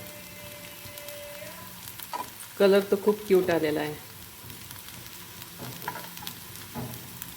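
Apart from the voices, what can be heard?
beet leaf vadi shallow frying in a pan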